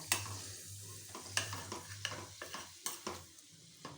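Roasted gram flour stirred in a hot kadai for pottukadalai laddu, a spoon scraping the pan in a steady run of sharp, close strokes over a low hum.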